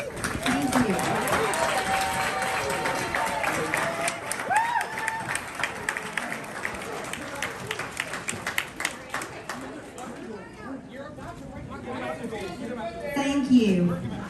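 A crowd at a town hall meeting cheers, claps and chatters in a rowdy indoor room, a sustained mix of clapping and shouting with voices talking over it and a louder swell near the end.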